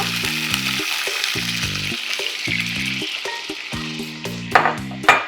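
Masala frying in a pan for chicken rezala as a souring ingredient is added bit by bit, producing a continuous loud sizzle with stirring scrapes and a few sharp spikes near the end, under repeating background music.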